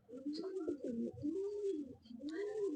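Pigeons at a pigeon market in Dobaliyapara, Bhaluka, Mymensingh coo close by in a few rolling, repeated calls with a little background rustle.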